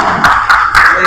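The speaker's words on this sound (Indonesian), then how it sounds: "Oke, tepuk tangan." A classroom group claps in a few quick, bright bursts, loud and close, with rhythmic pulses over about a second.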